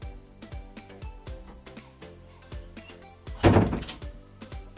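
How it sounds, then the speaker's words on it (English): A door is pushed shut in a home, giving one loud, close thud with a short boom after a run of lighter knocks and taps in the room. "Can you shut the door?"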